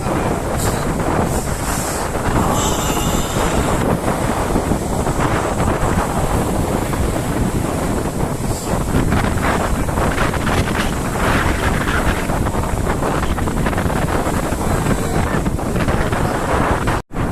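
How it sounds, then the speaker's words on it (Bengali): Strong wind buffets the microphone in a constant roar as rough Arabian Sea waves surge and crash underneath, loud and unbroken throughout. "সাগরের ঢেউ, উত্তাল ঢেউ, এই সাগরের উত্তাল ঢেউ।"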